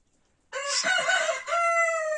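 Rooster crowing in a chicken coop where the birds are sick, one close, loud crow starting after a short silence, with a little clucking, no talking.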